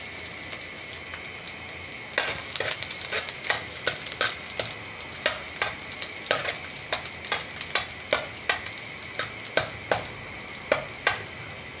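Vegetables being sautéed in a hot pan: a steady sizzle runs throughout, and from a couple of seconds in a spatula scrapes and stirs in a quick regular rhythm of about twenty strokes, close and fairly loud with no voices.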